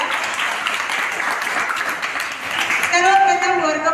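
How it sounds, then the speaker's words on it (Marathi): Audience applause welcoming children at a school speech competition for grades 5 to 7, a dense steady patter of clapping that runs throughout, with a voice beginning to speak over it near the end. "जोरदार टाळ्यांनी आजच्या कार्यक्रमाची सुरुवात करूया."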